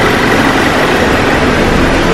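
A Subaru Forester XT engine runs with engine flush added before an oil service, giving a loud, steady, unbroken drone close by for a couple of seconds.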